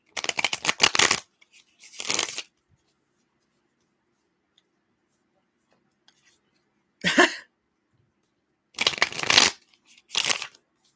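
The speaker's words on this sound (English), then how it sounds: "So I'm almost done shuffling." Tarot cards are shuffled in short, crisp riffling bursts, about five separate bouts with silent pauses between them, close and fairly quiet.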